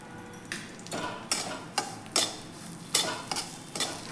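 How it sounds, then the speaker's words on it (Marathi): Semolina (rava) roasting in ghee in a pan, with repeated scraping and stirring strokes every half second or so over a soft background sizzle, close and moderately loud. "आणखीन थोडेसे मी यामध्ये तूप घालणार आहे, म्हणजे आपला रवा छान असा भाजला जाईल"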